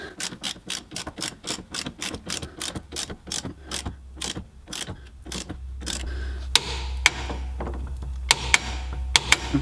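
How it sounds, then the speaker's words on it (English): A click-type torque wrench ratchets in a steady run of sharp clicks while tightening a bolt to 40 newton meters on a dogbone engine mount insert, then a low hum joins with a few louder snaps near the end. "And we torque this bolt to 40 Newton meters."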